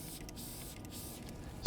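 Glass cleaner hisses in a steady spray onto a microfiber cloth while detailing a car interior, a continuous close airy rush lasting about a second and a half and ending in a sharp click.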